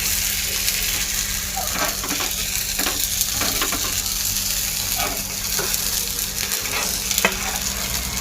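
Food sizzles steadily as it fries in a pan, with intermittent scraping and stirring clicks as it is turned, close and continuous without talk.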